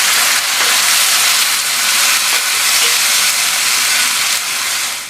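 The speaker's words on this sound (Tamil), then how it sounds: "அதையும் சேர்த்துட்டு இந்த தக்காளியும் இந்த எண்ணெயிலேயே வதங்கட்டும்" Ground tomato paste sautés in oil in a pan for a drumstick curry, a loud, steady hissing sizzle that fades slightly at the end.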